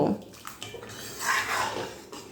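Boiled lentils and fried prawns are poured into a cooking pan, a brief, close wet slosh and splatter of liquid with a light clink of utensil against the pan.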